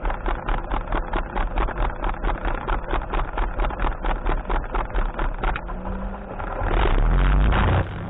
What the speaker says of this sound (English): I start the engine.